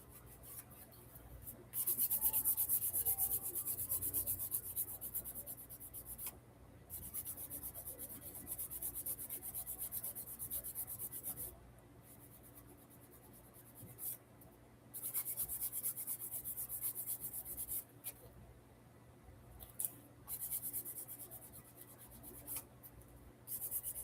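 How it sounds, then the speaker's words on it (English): Repeated scraping strokes of a file against a workpiece, coming in bursts with short pauses between them, close by and fairly quiet. "now I'm going to have to do a little bit more filing"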